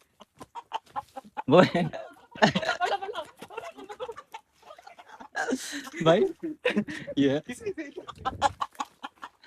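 A rooster on a farm clucks and squawks in short bursts while being chased, mixed with excited shouting voices nearby.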